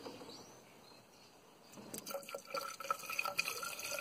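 Coolant mix pouring into the cooling system of a 2000 BMW E46 318i: liquid glugs and drips in, faint at first, then louder splashing trickles that continue irregularly.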